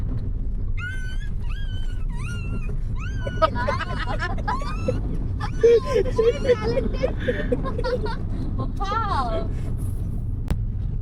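A person imitates a puppy's yelps and whimpers with a series of short, high, wavering vocal sounds, repeated close up over steady car engine hum, with other people talking in between, during a drive through tea country in Sreemangal.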